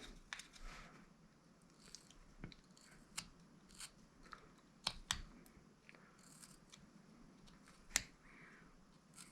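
A pocket knife makes a stop cut while whittling a small wooden wizard: quiet, crisp snicks and slicing clicks at irregular intervals, close by and otherwise hushed.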